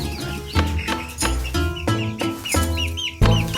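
Chickens in a roomy wooden shed cluck again and again in short, close bursts with some higher chirps, a busy flock with no talking.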